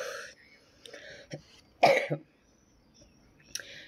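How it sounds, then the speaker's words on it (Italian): A woman gives a few small dry coughs and throat clears, spaced irregularly and heard up close in a quiet room. "a parte questi tossicchini, non ho nient'altro"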